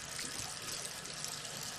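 Water runs from a thermostatic mixer tap into a wash hand basin, a steady hissing splash close by with no break and no talk.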